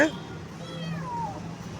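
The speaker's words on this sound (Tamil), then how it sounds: "இந்த பூனை பாருங்கள் பாவம் அவங்க அம்மா விட்டு இருக்கு" A small kitten, left behind by its mother, gives a sharp meow at the start and later a thin, wavering cry, heard close with a voice speaking nearby.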